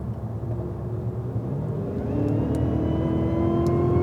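Cadillac CTS-V on a race track, the engine note rising steadily as the car accelerates under throttle, a smooth building drone heard from inside the cabin with no talk.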